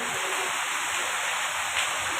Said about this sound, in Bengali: প্রচণ্ড আওয়াজ বৃষ্টি হইতেছে